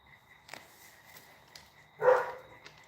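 Shepherd guard dogs giving a single short, fairly faint bark from some distance, set against a quiet background with light scattered clicks and movement before it.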